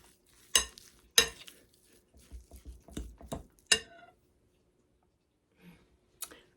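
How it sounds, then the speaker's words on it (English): A fork works through a meatloaf mixture in a bowl, giving a handful of sharp clinks and scrapes followed by softer squelching pats, with quiet pauses between bursts. "I've got this as mixed up as I can with the fork"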